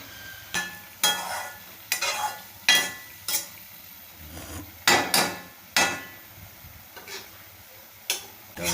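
Tomatoes and greens cook in a wok while a spatula strikes and scrapes the pan in a roughly regular series of sharp, close knocks over a faint frying sizzle.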